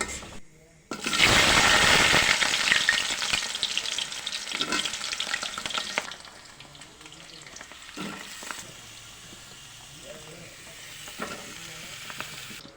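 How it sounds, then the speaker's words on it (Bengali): Cut mango pieces drop into hot mustard oil with bay leaf, dried chili and five-spice, bursting into a loud, close sizzle that gradually fades to softer frying with occasional stirring clinks. "এখন এই তেলের মধ্যে কেটে রাখা আমগুলো দিয়ে দেব"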